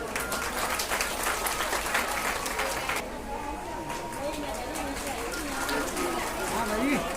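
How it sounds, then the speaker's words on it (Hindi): At a crowded devotional gathering at Garhwal Bhawan in Delhi, guests are welcomed with loud, dense applause for about three seconds. It then drops away to a busy room where voices carry on. "जोरदार तालियों से स्वागत।"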